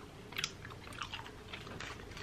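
Soft, close mouth sounds of someone chewing a piece of very chewy Japanese candy, with faint sticky smacks and small crunchy bursts repeating over a couple of seconds, no talking.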